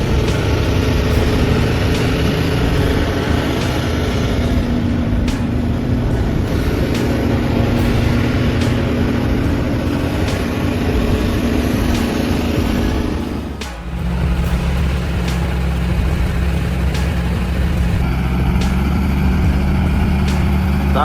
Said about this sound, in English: The engine roared madly, the RPM increased continuously